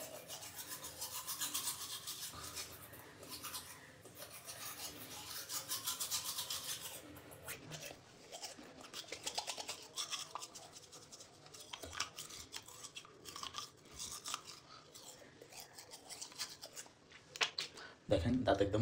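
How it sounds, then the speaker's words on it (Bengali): A toothbrush loaded with plain salt scrubs teeth in close, uneven bursts of gritty rasping and rubbing, with softer pauses in between and a brief clatter near the end. "তারপর দাঁত ব্রাশ করবো"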